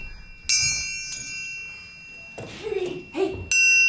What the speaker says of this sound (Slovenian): To je zvonec.